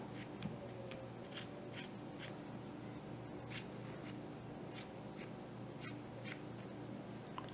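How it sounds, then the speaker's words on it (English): Scissors snip through upholstery fabric at the corner of an ottoman, a series of short, crisp cuts repeating every half second or so, close and fairly quiet over a low steady room hum. "And then I'm going to cut off this triangle here"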